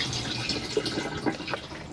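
Water flushes the bowl of a cassette toilet in a caravan bathroom, a short trickling, splashing gush at close range with faint drips and no talking.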